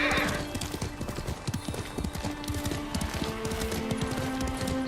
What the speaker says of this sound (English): so he has a horse